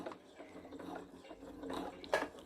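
A sewing machine stitching the side seams of trousers whirs in short, soft mechanical bursts with a faint rattling patter, quiet and close, with no talking.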